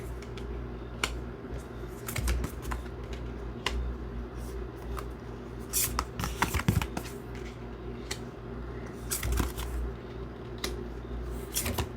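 Tarot cards being shuffled and drawn during a love reading, giving soft scattered slaps and riffles over a steady low room hum, with no talking.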